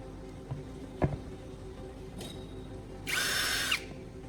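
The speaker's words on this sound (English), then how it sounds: "I'm drilling and attaching a small screw with an eyelet to the movable arm" A small power drill whirs in one short burst of about a second into the movable arm of a homemade tool, after a couple of light clicks and taps.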